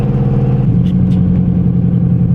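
A newly built engine runs on partial throttle during its first drive, a loud, steady, close droning rumble with a brief clattery rev change early on and light knocks over the top.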